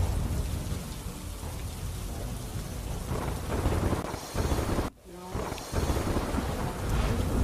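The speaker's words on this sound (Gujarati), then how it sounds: "નડિયાદ, વસો, માતર સહિત પંથકમાં વરસી રહ્યો છે વરસાદ." Heavy monsoon downpour over Nadiad in Kheda district, Gujarat, with thunder: a loud, continuous roar of rain hitting surfaces, broken by a deep thunder rumble near the middle and a brief dip before the rain surges back.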